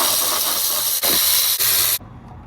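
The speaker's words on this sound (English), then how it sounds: "We should have already bought some brake parts cleaner to go ahead and get in here and clean all this oil residue off" Brake parts cleaner hisses from an aerosol can onto oily engine residue on a Toyota Previa during a valve cover gasket job: a loud, steady close spray broken by two tiny pauses, then it stops.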